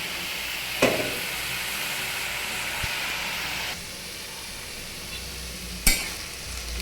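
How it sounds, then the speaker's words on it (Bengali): Snake gourd (chichinga) cooking in a covered pan with ginger and cumin seasoning, a steady low sizzle with a few sharp clinks and scrapes as it is stirred, no talking. "এইদিকে চিচিঙ্গাটাকে আমি ঢাকা দিয়ে দিয়েছিলাম। এখন এটাকে একটু আরেকটু নেড়ে চেড়ে নেব।"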